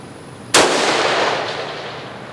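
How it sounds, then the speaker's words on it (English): A single sharp rifle shot cracks out loud and close on an outdoor shooting range, its rumbling echo fading over the next second and a half. "This is my last shot before it cools."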